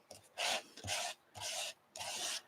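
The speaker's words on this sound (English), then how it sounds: "I'm loving the scraping for the background." Paint being scraped across a paper background with yellow paint, four separate rasping strokes about half a second each, close and fairly quiet, with no talking.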